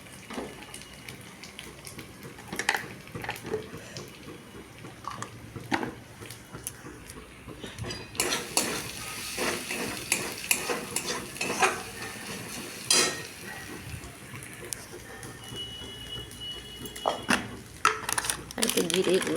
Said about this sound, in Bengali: এবার আবার একটু ভাজতে থাকুন